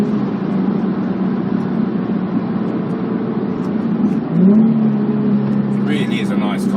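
A Nissan 350Z's 3.5-litre V6 engine drones steadily at a close, loud level, with a brief rise in pitch as the revs climb near the end.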